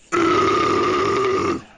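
A single long, loud belch runs unbroken for about a second and a half, a rough sustained burp with no talking over it.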